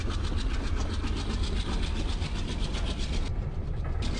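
Train in the Open Rails simulator running on tracks, a loud steady rumble with a rapid rhythmic clickety-clack of wheels over rail joints throughout.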